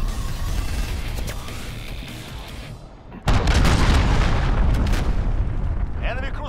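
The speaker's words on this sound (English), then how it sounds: "Enemy cruise missile, take cover." A heavy cruise missile blast in a military video game lands with a sudden loud boom partway through, followed by sustained rumbling debris and crackle, after a stretch of steady battle noise.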